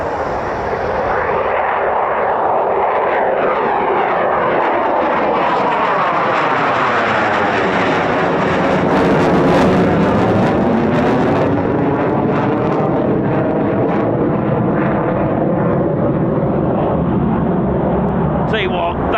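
A C-47 propeller aircraft drones overhead at an RAF airshow setting, its loud engine rumble swelling and sweeping in pitch as it passes, then fading slightly, with voices of onlookers audible alongside.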